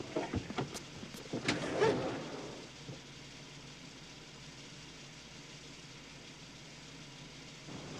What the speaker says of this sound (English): keep the engine running